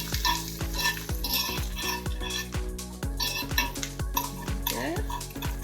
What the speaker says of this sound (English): Okay, so I'm cooking down the cabbage.